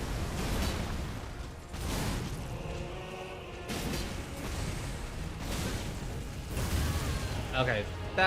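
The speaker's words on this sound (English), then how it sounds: "Okay, that explosion was cool." A boss explosion in the video game Elden Ring comes as several heavy broadband booming surges, moderately loud, spread across the stretch beneath ongoing game sounds while a person talks over it.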